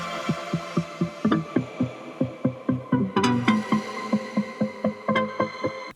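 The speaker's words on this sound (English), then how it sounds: "we're going to basically generate all of the ideas from the original gated ARP sound" Gated arpeggiator synth from a club track, playing alone as a steady train of short, evenly spaced chopped stabs with bright harmonic tones and a brief swell partway through.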